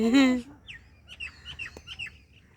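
A crow gives a single loud, harsh call outdoors near a tree, followed by fainter, scattered bird chirps in the background.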